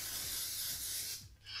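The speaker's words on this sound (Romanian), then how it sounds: "eu folosesc coconut spray-ul ăsta, cooking spray-ul" Coconut oil cooking spray hissing from an aerosol can into a heating pan, a loud continuous spray lasting over a second before a short pause and a brief second burst.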